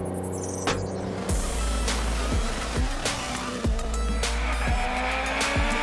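A VW Golf Rally TFSI hill climb car races up a mountain road, its engine revving hard and dropping sharply at each of several quick gear changes, loud and close with no voices.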